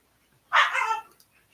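French bulldogs bark in a short, close burst of several quick yaps lasting about half a second, with faint rustling before and after.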